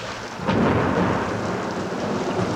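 Steady rain pours down with a broad, dense hiss, joined by a low rumble of thunder that swells about half a second in and rolls on beneath the downpour.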